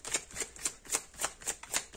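Tarot cards are shuffled by hand in quick, even riffles, about seven crisp papery bursts in two seconds, close and clear with no talk.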